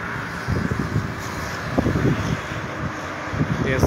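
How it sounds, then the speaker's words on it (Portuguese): Gusty wind from a late-afternoon storm in Santa Bárbara d'Oeste, a steady broadband roar buffeting the microphone, with faint rustling and low thumps, fairly loud throughout. "Com esse vento."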